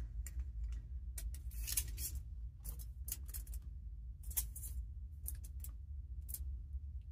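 Scissors snipping through tin foil to wrap homemade chocolate bars, a series of close, crisp cuts in irregular bursts over a quiet room.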